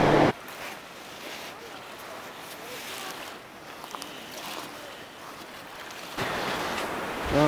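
Gentle waves wash steadily onto a fjord beach at a campsite, a soft continuous hiss with some wind, louder at the start and end.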